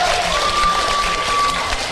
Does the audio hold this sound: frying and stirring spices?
no